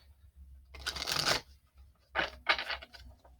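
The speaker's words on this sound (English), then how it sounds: "We'll shuffle these because we're going to put them together." Tarot cards being shuffled by hand, two quick riffling bursts close up with a short pause between, crisp and papery in a quiet room.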